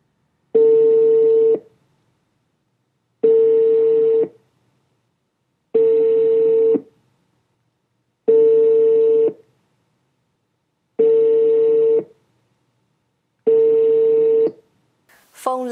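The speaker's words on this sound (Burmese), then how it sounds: "ဖုန်းလက်ခံဖြည့်ဆိုခြင်းမရှိပါဘူး" An unanswered telephone call to a government ministry official rings out, six evenly spaced ringback tones of about a second each, separated by silences, heard alone.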